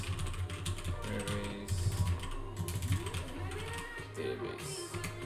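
Clattering keystrokes on a computer keyboard while writing Android Kotlin code, quick irregular taps close to the microphone with a faint hum behind.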